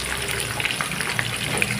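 Corn kernels frying in hot oil in a pan, a dense steady sizzle with scattered small pops and crackles, close and continuous with no talk.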